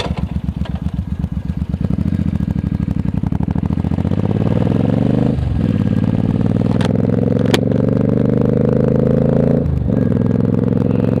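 Suzuki C50 motorcycle on a country road, a steady single-cylinder engine drone with gear changes and rising pitch as it accelerates, loud and close with constant wind rumble.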